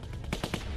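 Rapid AK rifle fire in The Walking Dead Season 2 video game, a quick burst of about three or four close, sharp shots.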